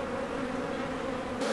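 Honey bees buzz over a hive frame holding nectar, a dense, steady, close drone without a break.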